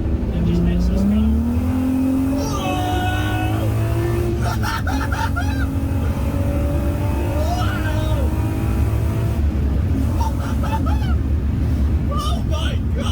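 A road-legal VW Golf race car with an R32 engine revs and accelerates loudly, its pitch climbing through gear changes, with wind roar and voices talking over it.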